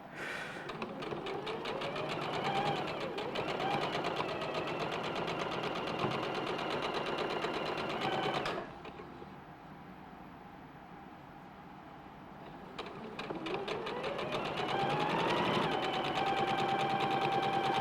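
A sewing machine stitches a quilt block at a quarter-inch seam, its steady motor whir running in two long bursts with a brief quieter pause between them.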